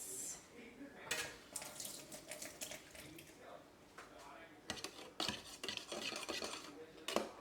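A pot of coconut milk being stirred by hand on a home stove, with irregular scraping and clinking of a utensil against the pot in bursts, plus soft splashing and some nearby talk.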